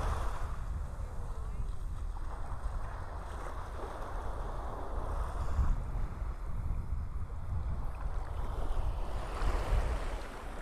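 Steady wash of surf rolling onto the beach at North Naples, Florida, with wind buffeting throughout and a faint voice now and then.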